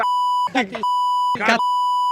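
A sustained censor beep tone runs through the clip, broken twice by short bursts of voices talking.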